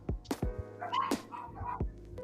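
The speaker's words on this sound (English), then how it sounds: "You guys hear my dogs just barking off." Dogs bark and yip at home in a quick, uneven cluster of several sharp barks with some whimpering, close but fairly faint, with no talk.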